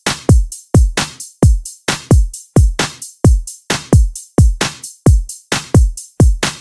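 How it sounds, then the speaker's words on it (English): FL Studio Mobile open hi-hat sample with its high and mid frequencies cut by a graphic equalizer, leaving boomy repeated hits in a steady, loud rhythmic loop with nothing else playing. "ang ginamit ko dito ay yung collider boom open hi-hat"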